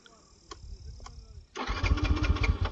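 A vehicle engine cranks and catches after a few quiet clicks, then runs at a rough, loud, pulsing idle close by.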